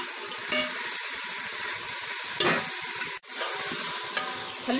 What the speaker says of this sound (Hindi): अब इनको थोड़ी देर भून लेंगे।